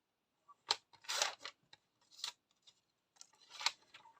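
Paper being cut with scissors for a handmade mini album with pockets, several crisp snips and slicing strokes in short irregular bursts, close and quiet with no talking.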